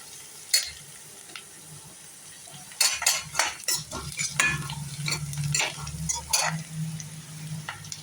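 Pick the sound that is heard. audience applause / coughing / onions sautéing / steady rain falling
onions sautéing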